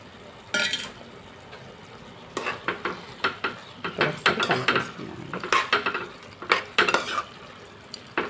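A utensil stirs fried dried prawns into a broad bean curry in a pan, with irregular metallic scrapes and clanks over a soft sizzle.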